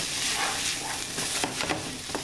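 Onions sautéing in a pan for cheesy oven potatoes give a steady close sizzling hiss, with a few soft stirring scrapes near the end and no talking.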